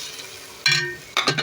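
Greens stir-frying in a little mustard oil, with two bursts of sizzling and scraping stirs over a quiet pan hiss, close and fairly soft.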